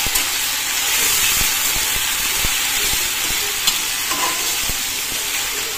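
Ginger-garlic paste fries in a hot pan with a steady, close sizzle and hiss, broken by occasional scrapes of stirring, with no one talking.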